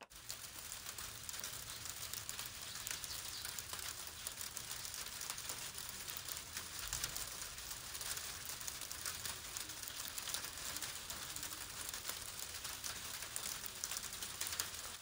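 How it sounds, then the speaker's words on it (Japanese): Hail falling, a dense, steady patter of countless small ticking impacts spread evenly throughout, faint and continuous with no voices. "あられの音"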